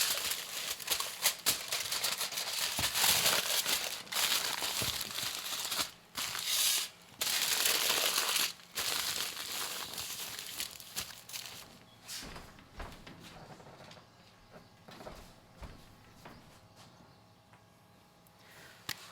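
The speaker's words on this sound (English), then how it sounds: "I'll cover it in foil." Aluminium foil crinkles and crackles around a lemon loaf as it is wrapped, loud crumpling bursts early on that fade into quieter intermittent rustles and taps, close up, with no voices.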